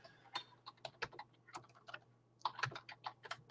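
Fingers tap steadily on a computer keyboard indoors, irregular quick keystrokes close and fairly soft over a faint low hum, with no talking.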